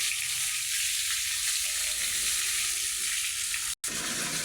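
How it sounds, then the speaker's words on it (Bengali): A motor pump spraying water onto a tin and asbestos roof, giving a dense, steady hiss and patter close by, with no talk and one abrupt cut near the end. "মোটর চালু করে আমার ছেলে জল দিচ্ছে, দেখুন। টিনের উপর, অ্যাসবেস্টারের উপরে জল মারছে।"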